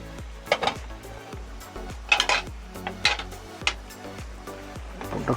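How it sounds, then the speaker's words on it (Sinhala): Utensil clanks against a cooking pot while fish is stirred, a run of close, light metallic knocks and scrapes at an irregular pace, with a soft kitchen hum underneath. "පොඩ්ඩක් කලවම් කරගමු."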